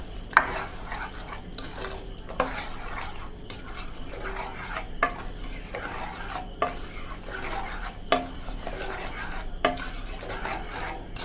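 Regular scraping and soft knocking of a spoon against a pan of thick ginger curry repeats every second or so, a steady stirring rhythm with faint kitchen background.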